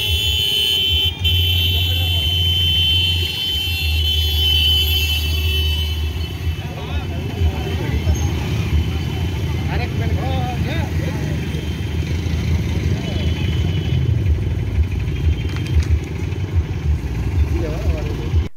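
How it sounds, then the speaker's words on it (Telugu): Motorcycle engines from a large youth bike rally rumble and rev continuously, a dense, loud drone of many bikes close by, with someone talking over the roar throughout. "ఈ సందర్భంగా స్థానిక యువత భారీ బైక్ ర్యాలీ నిర్వహించారు"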